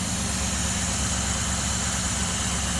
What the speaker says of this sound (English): look at that. It's idling perfectly.